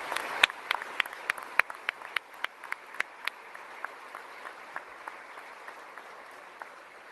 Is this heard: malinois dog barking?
no